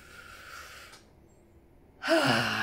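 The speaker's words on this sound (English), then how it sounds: "Long, deep breath in." A long, deep breath drawn in during a guided tapping relaxation exercise; quiet breathy air early, a near-silent pause, then a louder rushing inhalation close to the mic near the end, with no talk.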